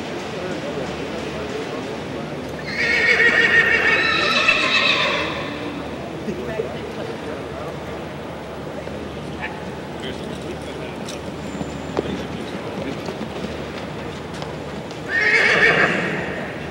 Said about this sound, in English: Just back your horses out, run them, and go back into your spot of the lineup,